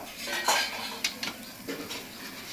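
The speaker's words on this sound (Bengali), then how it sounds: "পটলের দানাগুলো দিয়ে এবার ভালো করে আমি একটু কষিয়ে নেব" A ground pointed gourd paste is stirred and sautéed in a pan. A metal spoon clinks and scrapes against the pan in several quick strokes over a soft background of faint sizzling.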